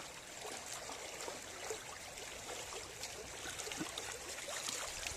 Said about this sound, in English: Water's just rushing through it, flushing through, taking out the lightweight particles.